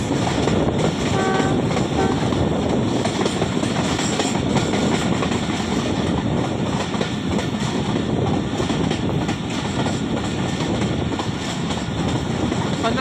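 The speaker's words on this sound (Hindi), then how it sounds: "चकलारा रेलवे स्टेशन से स्लो स्पीड में पास करेगी 40 डाउन जाफर एक्सप्रेस" Jaffar Express passing slowly through Chaklara railway station, a dense, steady rumble of rolling wagons and wheel clatter held at constant loudness throughout, close by.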